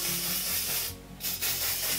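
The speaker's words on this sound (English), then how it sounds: "I'm going to take a nice glossy hairspray, and I'm just going to spray all of these little hairs" Glossy hairspray hisses from an aerosol can onto braided hair in a long continuous spray, close and steady, with a brief pause in the middle before the spray resumes.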